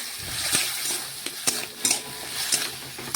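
Chili powder being stirred into a frying pan with potatoes, the spoon scraping and clinking against the pan in several sharp strokes over a steady low sizzle.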